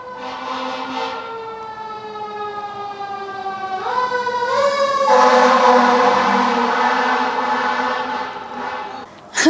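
A loud siren wails steadily with rising and falling harmonic tones, swelling in the middle and holding to the end, with no talk over it.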